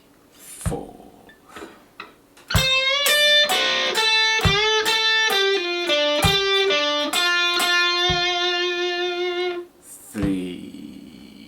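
Electric guitar plays a slow segment of a riff: a fast, distorted run of picked notes lasting several seconds, with a few isolated plucks before it and after.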